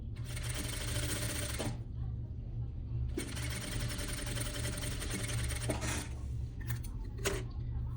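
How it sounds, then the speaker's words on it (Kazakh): Domestic sewing machine stitching the side seam of a tailored women's suit garment, two long steady runs of rapid motor whir separated by a short pause, then brief clicks and handling noises, close and fairly loud. "міне жанын тігіп алдық"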